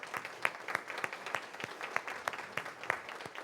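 An audience at a city First Friday event applauds, honoring a longtime fireworks organizer: a moderate crowd of clapping hands with distinct individual claps, steady and alone with no talking.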